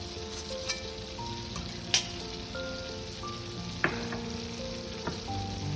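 Chicken pieces fry in hot oil for a mixed chow mein, giving a steady close-up sizzle with a few sharp clinks and stirring taps along the way.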